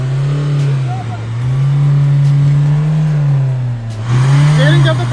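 Mahindra Thar stuck off-road, its engine revving in loud sustained surges that rise and fall, with people talking over it near the vehicle.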